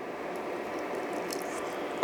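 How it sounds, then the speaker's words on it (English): Water is poured into a thick homemade peanut sauce simmering in a pan for Indonesian chicken satay, giving a steady close bubbling and squishing with a small splash at the end. "I'm going to add a little bit of water."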